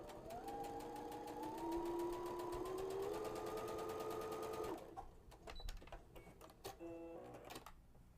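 A sewing machine runs a straight stitch along a fabric edge against an edge guide, loud rapid needle clatter for about five seconds, then stopping with a few soft clicks and handling noises.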